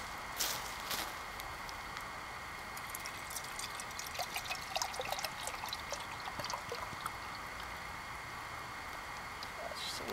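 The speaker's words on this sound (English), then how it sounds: "let's fill this pot up and time how long it takes to get to a rolling boil." Bottled water pours into a camping cook pot in a steady, close trickle that runs for about ten seconds, with a few louder splashes early on.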